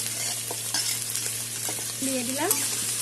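Carrots, beans and chillies crackle and hiss in a hot pan as a spatula scrapes and stirs them, with a steady sizzle and a few sharper scraping strokes.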